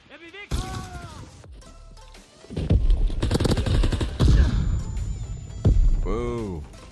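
Gunfire in Call of Duty WW2, loud bursts and booming shots mixed with game effects, while a voice talks over the action.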